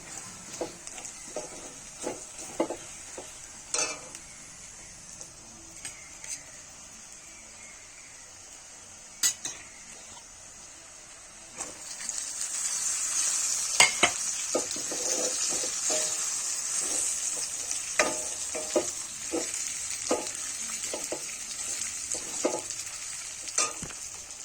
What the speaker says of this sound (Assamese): মছলাখিনি অকণমান ভাজি এতিয়া ভাজি ল'লোঁ। তাৰপাছত ভাজি 2 মিনিটমান ভাজি তাত মাংসখিনি দি দিম।